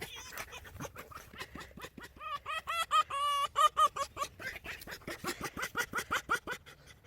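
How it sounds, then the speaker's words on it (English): A fox gives rapid, weird vocal sounds: a run of short cackling yelps and squeaky, whining calls in quick rhythm, fairly close and clear. "this is made out of a fox making weird sounds"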